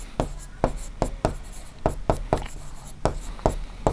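Numbers are written on a board with about a dozen crisp, tapping strokes in an uneven rhythm, loud and close, with no talk.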